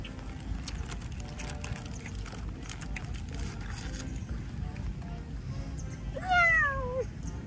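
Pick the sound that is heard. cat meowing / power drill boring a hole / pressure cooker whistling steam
cat meowing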